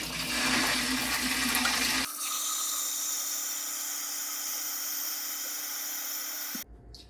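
Running water rinsing salt and spices off curing meat, a steady loud gush that starts harsh and broadband, then settles into a smoother stream before cutting off abruptly.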